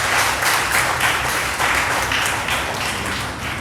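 Audience applause at an essay and elocution competition ceremony honouring participants, a steady dense patter of many hands clapping continuously throughout, fairly loud and sustained without a break.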